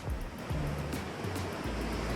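Ocean waves surging on a beach, a continuous rushing roar of surf with low swells rising and falling, loud and close, with no talk over it.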